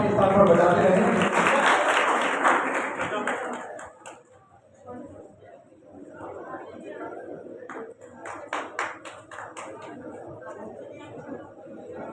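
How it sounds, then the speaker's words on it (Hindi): Crowd at a large Hindi poetry gathering during a Maharaja Agrasen festival applauds loudly at first, then the clapping fades into scattered claps and murmuring chatter with voices talking throughout. "एक बार जोरदार तालियां आप अपने स्थान पर बजाते रहें।"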